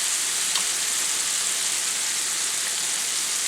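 Shrimp deep-frying in a pan for Southern Creole fried shrimp, giving a steady, dense sizzle and crackle that holds evenly throughout at close range, with no talking.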